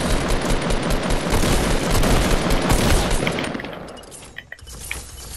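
Rapid automatic gunfire in the video game Fortnite rattles loudly for about three seconds, then fades, leaving a couple of isolated sharp cracks.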